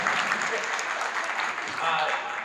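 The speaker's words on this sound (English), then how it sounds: "I love it when people applaud for me. That was your cue." A convention panel audience claps together in sustained, moderately loud applause that holds steady for a couple of seconds.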